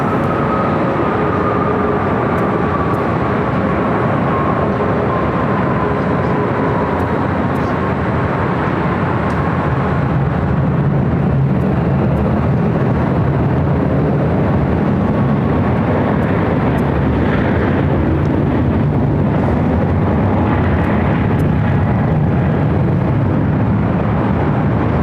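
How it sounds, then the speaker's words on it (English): Qantas Airbus A380 arriving on runway 25 Left at Los Angeles International Airport, a loud, steady roar of jet engines carried from a distance, with a slowly descending whine over a broad rumble that swells and shifts as the airliner comes in. "we do have the Qantas A380 Super arriving 25 left"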